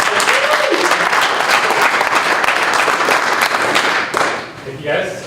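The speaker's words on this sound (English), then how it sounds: "Please give Yulong a warm applause." A morning startup-pitch audience gives a presenter a warm round of applause, loud and dense at first, then thinning and tapering off near the end, with a few voices underneath.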